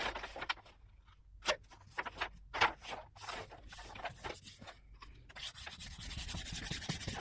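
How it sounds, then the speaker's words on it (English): Paper being burnished onto a covered board for gluing while making a gift card holder: close, quiet rubbing and scraping strokes in irregular bursts, then a steadier continuous rub toward the end. "Just burnishing it well so that it can glue properly."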